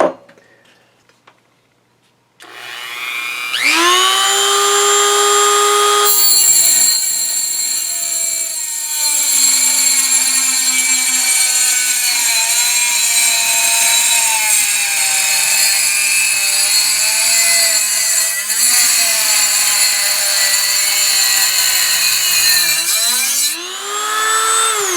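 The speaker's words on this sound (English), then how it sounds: "we're going to attach this and see how easily it will cut this metal" A Dremel rotary tool with an EZ Lock cutting wheel spins up and bites into thick metal held in a vise, a loud sustained high whine with slight pitch dips under load for about twenty seconds before spinning down.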